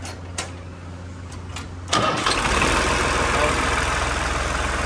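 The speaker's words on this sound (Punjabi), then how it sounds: "ਸਟਾਰਟ ਦੇਖਦੇ ਆਪਾਂ ਟਰੈਕਟਰ ਸਟਾਰਟ ਹੁੰਦਾ ਜਾਂ ਨਹੀਂ ਹੁੰਦਾ" A New Holland tractor engine cranks briefly and catches, then settles into a loud, steady close-up idle that rumbles on to the end.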